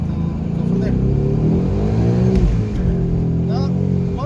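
A supercharged 2019 Ford Mustang with a Vortech blower revs hard through a 1-2 gear shift, the loud engine note climbing, dropping at the shift and climbing again as a voice talks over it.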